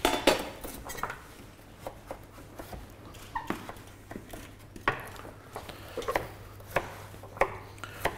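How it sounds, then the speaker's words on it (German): Root vegetables for a roasted vegetable base are being cut in a kitchen, with a steady series of sharp knife taps and clinks of cutlery and dishes over a faint background hum. "Also ein Röstgemüse, das könntest du dabei schneiden."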